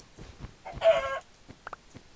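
A chicken in the video game Minecraft clucks once in a short burst, with a couple of quick clicks and faint footsteps around it in an otherwise quiet forest setting.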